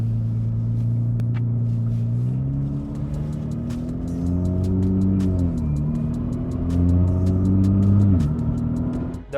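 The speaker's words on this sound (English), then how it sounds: "I hear more of a whining noise right now." A Nissan Z with a modified shifter cruises along, its steady low engine and drivetrain drone carrying a faint whine that shifts in pitch as speed changes, with road rumble and scattered small ticks throughout.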